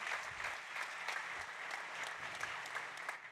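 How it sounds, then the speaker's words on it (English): Audience clapping for a presenter at a fintech and insurtech startup pitch competition, a continuous, even patter of many hands at moderate volume with no break. "Big applause for him."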